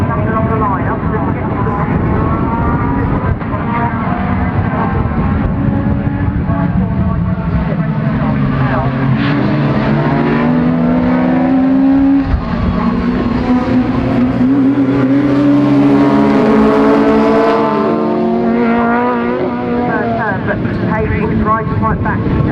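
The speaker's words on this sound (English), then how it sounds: "We're about to go racing for the second time today with the supercars and Grant on pole" Rallycross supercars race at Croft Circuit, engines roaring and revving continuously for over twenty seconds, loud and close with pitch rising and falling through gear changes, and a commentator talks over the racing throughout.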